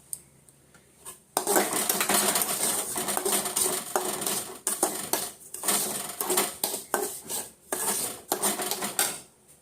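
Semolina roasting in a metal pan for upma, with steady scraping and stirring clatter of a spoon against the pan, close and continuous with brief pauses, no talk.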